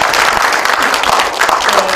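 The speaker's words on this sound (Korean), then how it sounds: "이렇게 저희 대단하신 소담이나 연구원장 재인 스님을 박수로 모시겠습니다" Audience applause in a lecture hall at a history and culture academic conference, dense steady clapping from a large crowd, loud and close throughout.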